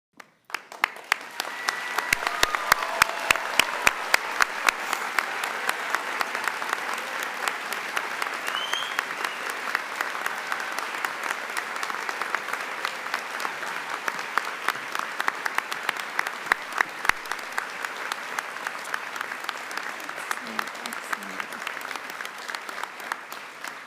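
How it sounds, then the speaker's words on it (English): An audience at a medical school white coat ceremony breaks into sustained, loud applause, dense clapping that swells quickly and continues for over twenty seconds with occasional cheers. "I think that we need to clap and hoot and holler again"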